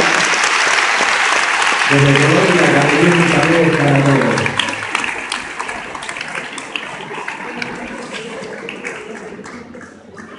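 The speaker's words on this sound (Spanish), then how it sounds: "Un aplauso para todos los que nos están viendo allá." A gathered crowd in Anolaima, Colombia applauds loudly as someone speaks over the clapping, which then thins into scattered claps and fades toward the end.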